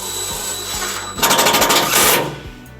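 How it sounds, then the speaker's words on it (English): A power drill drives a self-tapping screw to fasten a ground wire on a 2011 Chevrolet Colorado, a loud close whirring burst about a second long with rapid pulsing as the screw bites, set against a low background hum. "we're going to secure our ground wire with our provided self-tapping screw"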